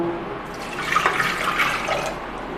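Water pours steadily into a pressure cooker holding a cup of urad dal, a close, continuous splashing stream lasting a couple of seconds.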